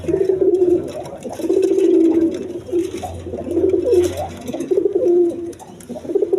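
Pigeons at a farm coo in repeated throaty, rolling phrases close by, loud and steady, with a voice briefly talking underneath.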